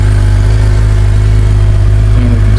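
Brand-new 2024 Suzuki GSX-R750 sportbike engine running loud and close, a steady deep idle throb that holds constant throughout with no voices.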